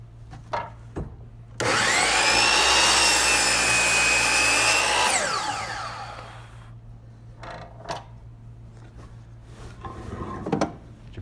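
A hand saw cuts through the cracked end grain of a wooden board, a loud, steady rasping stretch of a few seconds that tapers off as the offcut comes free, followed by quieter knocks and handling sounds.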